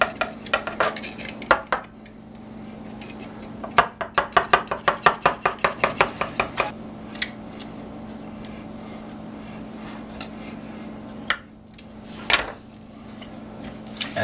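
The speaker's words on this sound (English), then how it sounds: "I'm going to cut off the edges a little bit. Just running a knife around the outside." Knife trimming the edges of a pie crust in a pie dish: a quick run of rhythmic tapping cuts against the dish, then slower scattered scrapes and knocks, close and clear without talk.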